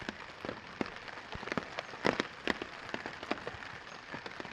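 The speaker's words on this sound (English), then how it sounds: "it's raining a little bit more now than it was" Light rain patters steadily on a tent in the Boundary Waters wilderness in August, scattered drops tapping close by with a few louder hits, no voices.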